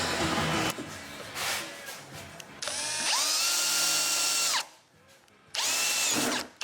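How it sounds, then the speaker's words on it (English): Power drill boring a pilot hole in a cooler for a Polaris AXYS snowmobile tunnel install, with loud whining bursts that rise in pitch and strain, short pauses between them, close up. "Now I'm going to drill a pilot hole."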